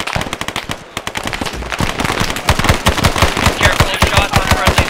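Close, loud rapid automatic gunfire fills a jungle firefight during the Long Tan event in the SOG Prairie Fire video game, with sharp shots in quick rattling bursts that grow denser and heavier toward the end.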